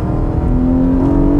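Naturally aspirated Porsche boxer engine revving hard above 5000 RPM, a loud, steady high-pitched wail with a rising tone that climbs smoothly and holds without a break.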